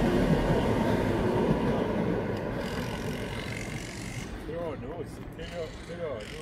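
The Krösatåget regional train rumbles past close by in a steady, loud rolling roar that slowly fades, with people talking quietly near the end.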